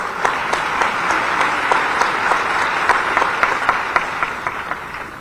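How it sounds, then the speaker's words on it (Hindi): Audience applause at a Bhopal taxpayer award ceremony, a dense steady patter of many hands clapping for about five seconds, close and fairly loud, with a few sharper individual claps standing out before it thins slightly at the end. "ताली और ठीक ठाक हो जाए।"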